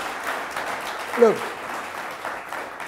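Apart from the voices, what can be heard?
audience round of applause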